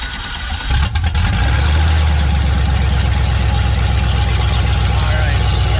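Mud truck engine fitted with two-step launch control, revving hard and holding against the limiter with a rapid, loud, steady stuttering pulse close to the microphone for several seconds.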